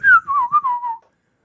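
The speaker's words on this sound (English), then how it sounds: "If that money right, big, you could just whistle." A single person whistles one short melodic phrase, starting on a higher note and gliding down through a few wavering pitches before stopping, clear and close with nothing else behind it.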